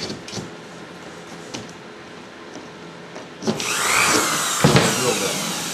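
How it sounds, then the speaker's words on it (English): A power drill starts after a few quiet knocks and clicks, then whirs loudly and steadily up close with a rising pitch and a brief bump partway through. "Drill"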